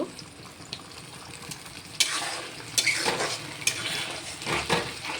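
Spices frying in a pan for chicken curry sizzle softly while a utensil stirs and scrapes, with sharper clinks against the pan now and then.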